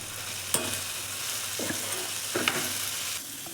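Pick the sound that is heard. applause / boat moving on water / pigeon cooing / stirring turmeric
stirring turmeric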